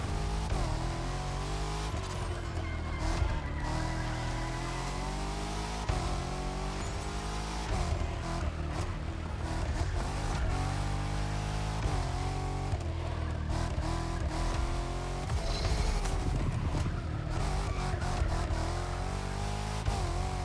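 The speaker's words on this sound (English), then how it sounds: "You can catch some nice little drifts with this that are controllable." A Dodge Challenger SRT Demon in The Crew Motorfest drifts, its engine revving up and down in repeated surges with faint tire squeal, loud and continuous.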